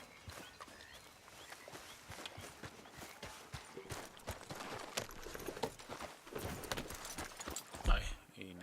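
A horse steps through shallow water in Red Dead Redemption 2, irregular splashing hoof falls and sloshes of moderate loudness, growing busier toward the end, with a person talking over them.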